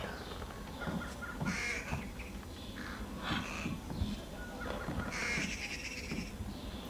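Birds startled into cawing in the Thief video game, a flurry of harsh crow-like calls repeating over a low ambient backdrop, moderately loud with no speech.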